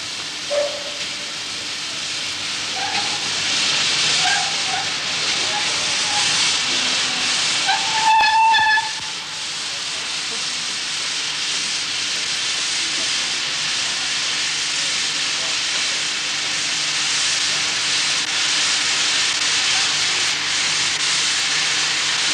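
Steam locomotive L94 standing with a works train, a loud continuous hiss of escaping steam throughout, with short whistle-like tones and a brief clank early on, nearby and steady.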